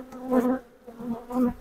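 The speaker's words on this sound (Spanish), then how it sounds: "Tienen una gran cantidad de abejas" Honeybees buzz around their hives in a windy February apiary, a close droning hum that swells and fades in two short passes.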